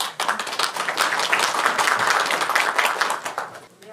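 An audience at a Yangpyeong County training event applauds, with dense, lively clapping from many people that holds steady for a few seconds before tapering off.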